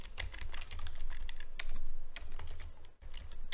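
Fingers typing on a computer keyboard, a close run of quick irregular key clicks with a couple of louder strikes and a brief pause near the end, no talking.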